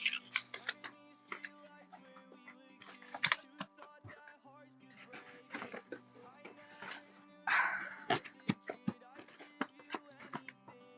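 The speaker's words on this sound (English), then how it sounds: "And we got dogs." Dogs bark in repeated sharp bursts, some close and loud, with short gaps between, over light clicking like keyboard typing and some talk in the background.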